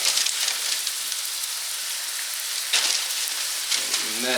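Salisbury steaks browning in a skillet, giving a steady close sizzle and crackle of frying meat that stays loud throughout, with a couple of brief bursts of sputtering fat.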